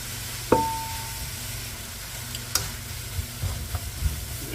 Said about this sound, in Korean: 버터를 가지고 좀 볶고요